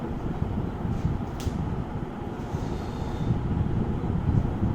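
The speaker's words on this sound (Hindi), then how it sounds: "ये पंखा चल रहा है" An electric fan runs steadily in a room where a medical lecture is being recorded, giving a continuous broadband whooshing hum with no clear breaks or talk.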